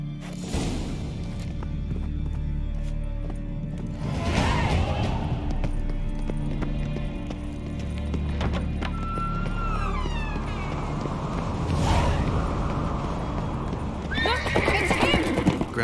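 Hooves clip-clop at a steady gallop while a horse whinnies in The Witcher 3, with game music and effects layered underneath.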